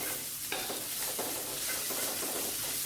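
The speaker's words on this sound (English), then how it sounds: "we combine together like this. Stir up gently." Rice stir-fried in a pan with shredded carrot, cabbage and yellow paste, making a close, steady sizzle broken by a few scraping stirs, with no speech.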